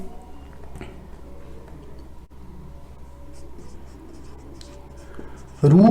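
Hand writing of lesson notes during a Class 9 biology class on conserving plants and animals, a soft scratching of pen on paper under steady background hum, ending in a sudden loud rustle or bump.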